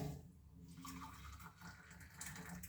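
Heated water pours and trickles steadily through a filter at a low level, a continuous soft splashing with no talking.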